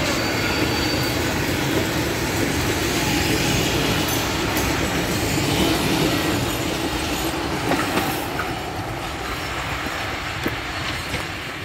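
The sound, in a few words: steam train passing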